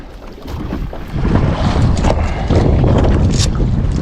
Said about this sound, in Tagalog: Tapos medyo may hangin, malakas yung hangin.